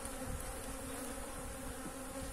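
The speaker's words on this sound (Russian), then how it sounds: "Пчелы злые, как собаки." Angry honey bees buzz around a hive frame in a steady, dense drone, fairly quiet and close, with no talking.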